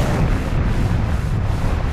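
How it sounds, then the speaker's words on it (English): A big explosion from the Power Rangers SPD episode "Wormhole" sets off a loud, sustained boom with broad, rumbling noise. It carries on without a break and no one speaks over it. "kick off the biggest explosion of the bunch"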